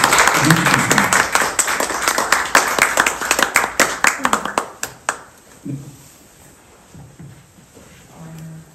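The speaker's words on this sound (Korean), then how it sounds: "김정은님 따뜻하게 박수로 맞이하면서 축하드립니다" Church congregation welcomes a speaker with warm applause, a dense burst of many clapping hands that thins to a few scattered claps and fades out after about five seconds, followed by faint talk.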